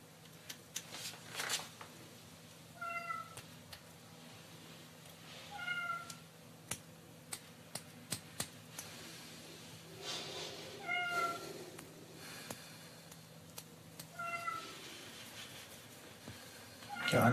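A cat shut inside a room meows four times at steady intervals, each cry short and fairly faint and muffled. Soft shuffling and scattered clicks sit between the calls over a quiet background hum.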